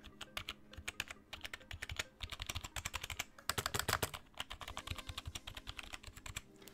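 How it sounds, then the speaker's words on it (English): Close, rapid typing on a cheap mechanical gaming keyboard, a dense run of crisp clacking keystrokes with a busier burst in the middle, with no talking. "So this is kind of like keyboard ASMR"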